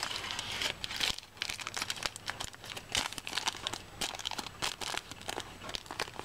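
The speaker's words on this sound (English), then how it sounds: "So fold it in half. Fold it in half again." A sheet of material folded in half and then in half again for making eyeshadow pans, giving loud, close crinkling and crumpling with sharp crackles throughout, no talk.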